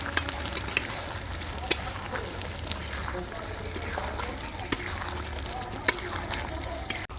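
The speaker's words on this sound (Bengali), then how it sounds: "এবার আমরা চিংড়ি মাছগুলো দিয়ে দিচ্ছি।" Prawns frying in a pan with pre-fried potatoes over a burning stove outdoors in a mango orchard: a steady, dense sizzle with occasional clicks and stirring knocks, close and even throughout.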